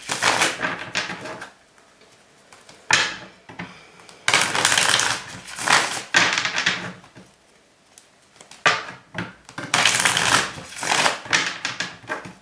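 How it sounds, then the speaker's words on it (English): A deck of tarot cards being shuffled by hand, giving several bursts of crisp riffling and flicking separated by quiet pauses, close and fairly loud with no talking. "just give me a sec to shuffle this deck because I had not pre-shuffled it"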